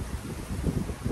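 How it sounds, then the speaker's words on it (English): Wind buffets the microphone with a gusty, rumbling roar, steady and fairly soft. "I do apologize for the wind."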